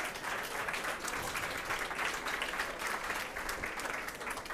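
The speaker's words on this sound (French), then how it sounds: "on peut applaudir déjà" An audience applauds after a conference talk on neuropedagogy and e-learning, steady dense clapping sustained through the whole stretch, moderately quiet and heard from a distance, with no speech.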